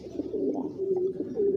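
A male meat-breed pigeon coos close by in a soft, low, repeated throaty call over quiet surroundings, with no talk.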